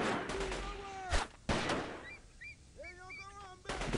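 Gunshots in the shooter game Delta Force 2 come as two sharp cracks early on and another burst near the end. Warbling electronic tones or calls and a steady background wash sit between them.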